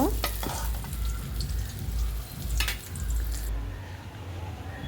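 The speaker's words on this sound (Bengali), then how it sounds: "দেখুন বেগুনগুলো আমার ভাজা হয়ে গেছে লাল লাল করে" Eggplant fries in oil with a close, steady sizzle, broken by occasional scraping stirs.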